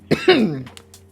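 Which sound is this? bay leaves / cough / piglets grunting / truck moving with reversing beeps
cough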